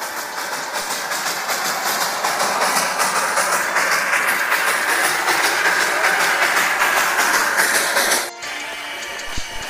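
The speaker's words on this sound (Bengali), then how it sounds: "টয় ট্রেনটি ছোট্ট একটি ট্রাকে হুইসেল বাজিয়ে আপনার পাশ দিয়ে চলে যাচ্ছে" Darjeeling toy train on narrow-gauge track at Batasia Loop, a loud close rumble and clatter of engine and wagons rolling past for several seconds, then cutting off abruptly near the end.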